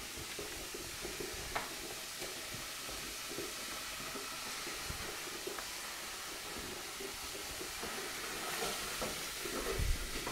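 Onions and mushrooms frying in a little oil in a pan for a mushroom sauce, a steady soft sizzle with occasional stirring scrapes, close and fairly quiet with no talking.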